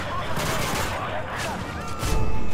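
Rapid pistol gunfire in the video game Call of Duty: Modern Warfare 3, a quick run of sharp shots over background battle noise, with the last burst loudest.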